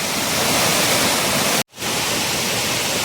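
Mettuguda waterfall running in full flow, a dense, loud, unbroken rush of falling water, briefly cut off midway before resuming just as strong.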